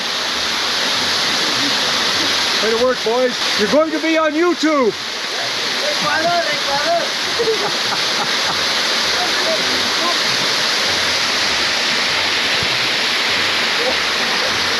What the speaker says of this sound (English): It's just a place where some brave young men can go have a really cold shower.